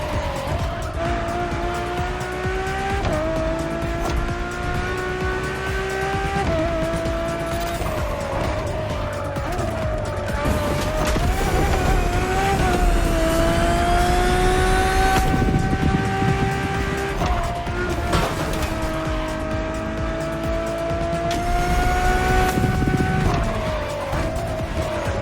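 A road-legal Ferrari supercar with Pininfarina styling and F1-inspired air intakes, driven in the racing game The Crew Motorfest. The engine roars continuously and loud, its pitch climbing and dropping through several gear shifts, with tire squeal in places.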